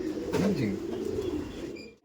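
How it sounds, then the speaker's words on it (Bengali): A Kolkata racing pigeon coos close by, a single soft rolling call that rises and dips over about two seconds before cutting off abruptly. "একটা পায়রা দেখাচ্ছি, এটা আমার কলকাতা পায়রা, রেস করা পায়রা"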